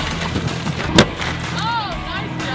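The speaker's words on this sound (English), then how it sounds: "We're testing out the glass breaker." A Leatherman Z-Rex glass breaker strikes glass with one sharp, loud crack at mid-clip over steady background noise, followed by a brief voice-like sound.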